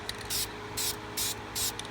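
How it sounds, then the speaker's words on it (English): Black lacquer hisses from an aerosol spray can in four short, even bursts of roughly a quarter second each, close and moderately loud, with quiet pauses between. "So I'm going to spray it from several different directions, just really lightly"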